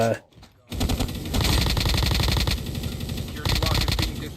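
Sustained automatic fire from a Kilo rifle in COD Mobile, loud and close, with rapid continuous bursts after a brief pause, and a voice talking faintly underneath.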